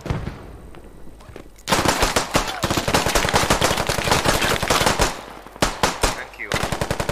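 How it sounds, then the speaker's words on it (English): Bursts of automatic gunfire in the Squad military shooter game, loud and close, with dense rapid volleys separated by short pauses and faint voices in the background. "We're getting shot from behind"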